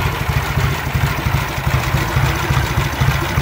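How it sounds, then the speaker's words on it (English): A 1949 Triumph 500cc motorcycle engine idles steadily up close, its low, even thrum pulsing with a fast, regular rhythm and no knocking, with no voices over it. "Nice engine, no oil leaks, no shangling and banging."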